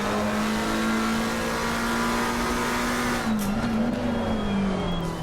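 A race car engine pulling a steady, loud note from inside the car, then dipping briefly as it shifts down to second gear before climbing again.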